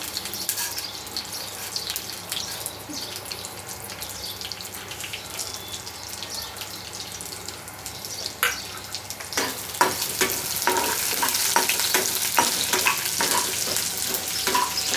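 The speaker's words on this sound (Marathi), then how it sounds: "दोन मिनिटं चांगली उडदाची डाळ शिजवून द्यायची आपण." Fenugreek seeds and urad dal fry in a pan with a continuous hiss and crackle, sharper stirring and scraping clicks joining in the second half, close and without talk.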